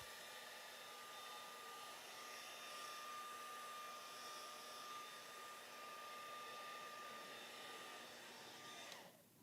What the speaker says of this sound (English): It's also good to use this heat gun just to dry some of this.